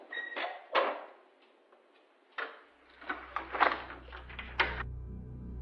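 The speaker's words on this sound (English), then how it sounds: "At the end of the call, you can hear a door shutting." A rental house's front door shutting at the end of a phone voicemail recording: a scatter of muffled knocks and clicks, then a low hum, with a final sharper thud near the end.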